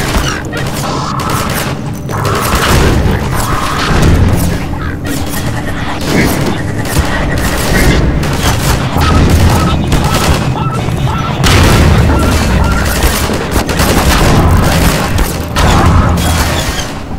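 Combat in Half-Life 2 Episode One with Combine soldiers shooting, loud repeated gunshots and booming impacts packed over a continuous roar of battle and music, with a voice talking faintly underneath at times.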